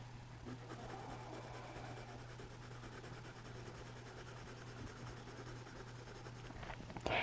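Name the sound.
pencil colouring on paper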